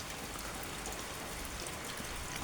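Heavy rain pours steadily over a town in Bahraich, a dense, even hiss filling the space from start to finish with no voices.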